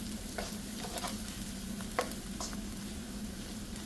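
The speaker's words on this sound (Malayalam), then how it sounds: "ഇനി നമുക്ക് മുളക് പൊടി ഇട്ട് കൊടുക്കാം. നന്നായിട്ടൊന്ന് വഴറ്റാം." Chili powder sautéed in a pan for tomato rice, with a soft continuous sizzle and light stirring scrapes and taps throughout, no voices.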